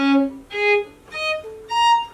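Four bowed viola open-string notes tuned to A=415 Hz, played one after another, each sustained about half a second with short gaps, clear and close with no talking.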